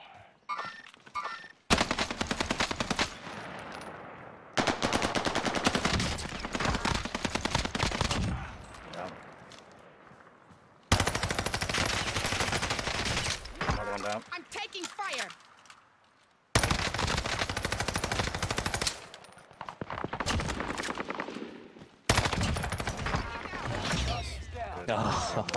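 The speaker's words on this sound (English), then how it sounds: "Where are they shooting? Are they firing at someone else?" Repeated bursts of automatic gunfire in Call of Duty Warzone on the Pacific Caldera map, loud and dense, arriving in several long volleys separated by short quiet gaps, with voices talking between them.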